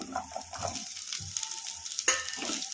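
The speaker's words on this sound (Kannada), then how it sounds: "ಉಳ್ಳಾಗಡ್ಡಿ ಹಸಿಮೆಣ್ಸಿನ್ಕಾಯಿ ಚೆನ್ನಾಗಿ ಫ್ರೈ ಆಗೋವರೆಗೂ ಫ್ರೈ ಮಾಡ್ಕೊಂಬಿಡೋಣ" Onions and green chilies frying in a kadai over medium flame for green tomato chutney, a soft sizzle broken by scraping stirs of a spatula, no talk.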